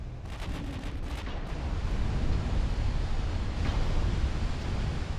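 Distant rumbling battleship main gun salvos at sea in Ultimate Admiral Dreadnoughts, a low continuous roar of booms and wind-like surf noise swelling louder over the stretch, with no voices.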